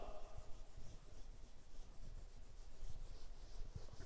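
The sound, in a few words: rubbing the board clean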